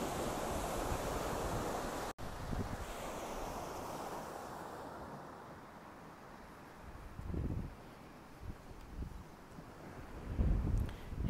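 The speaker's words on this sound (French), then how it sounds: "Et tu entends ces vagues qui montent." Surf washes in and recedes in slow swells, with soft breaking surges and wind hiss, fairly quiet and distant, no voices.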